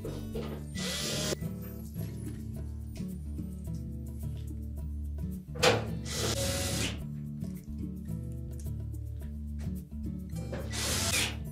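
Power tool driving retaining screws back into a GE range during a surface burner switch repair, with short ratcheting bursts separated by gaps, up close over a steady background.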